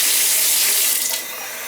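Water from a shower running in a steady, hissing spray, close and fairly loud, easing slightly near the end.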